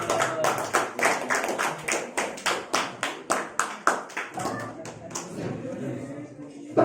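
A small audience claps in a steady rhythm after lottery draw number five at an Isra Mi'raj competition event, with about twenty evenly spaced claps at moderate loudness and faint voices underneath.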